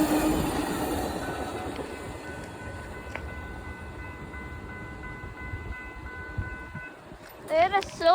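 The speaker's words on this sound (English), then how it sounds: "Amtrak Silverstar." An Amtrak Silver Star passenger train rolls by steadily at moderate distance, its wheel and car noise continuous, with a brief squeal and a louder burst near the end.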